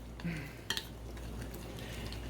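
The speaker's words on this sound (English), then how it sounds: "I am just going to, without burning myself, because it happens a lot, stir this all up" Gluten-free rosemary focaccia with vegetarian feta is stirred in its pan, producing a few soft utensil scrapes and a sharp clink against the dish over a quiet background.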